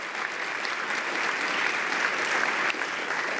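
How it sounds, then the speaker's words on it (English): Steady applause from an audience at an evening student scholarly presentation, dense and even throughout the short stretch, with no voices over it. "give them a great big round of applause"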